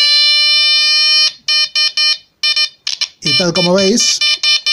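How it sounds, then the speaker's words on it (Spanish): An electronic buzzer from an audio oscillator circuit with a 22-nanofarad capacitor sounds a steady high-pitched tone, then cuts into a series of short bursts. A person speaks partway through. "aquí tenemos el zumbador, aquí tenemos el sonido"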